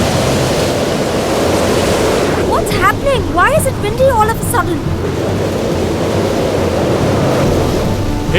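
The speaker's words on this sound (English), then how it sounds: "Why is it windy all of a sudden?" Sudden strong wind roars as a loud, steady broadband rush through the whole stretch, with a voice briefly calling out over it partway through.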